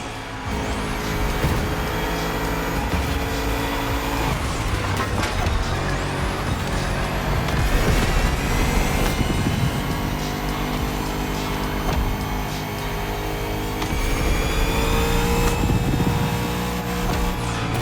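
Bugatti Vision GT supercar driving in the racing game The Crew Motorfest, its engine droning loud and steady throughout with rising and falling revs and whining gear shifts, no talk.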